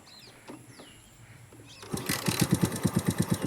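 A motorbike engine starts and revs in quick pulsing bursts as it gets ridden, loud and close, after a quieter stretch with birds chirping in the background.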